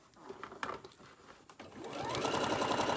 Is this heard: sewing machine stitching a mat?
yes